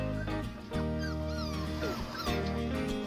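A puppy, a cross-breed, gives a few thin, high-pitched whimpers and whines close by, short rising cries spread over a couple of seconds against a low background hum.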